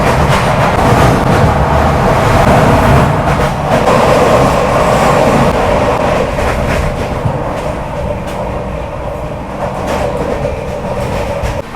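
Inside a 3rd AC coach of the Tejas Rajdhani Express (22824 New Delhi–Bhubaneswar), the train runs at speed with a loud, continuous rumble and steady rhythmic wheel clatter, no voices.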